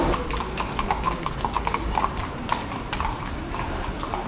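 Horse hooves clip-clop on a city street during a Spanish riding outing, a steady rhythm of moderately loud hoofbeats over background crowd and traffic noise.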